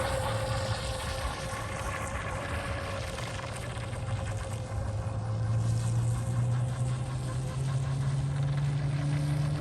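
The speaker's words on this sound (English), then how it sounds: "At least it's making boat noises now" Proboat Miss Geico RC boat with an upgraded motor running on water, a steady high-pitched electric whine with rising pitch as it speeds up, accompanied by constant water spray and splash noise.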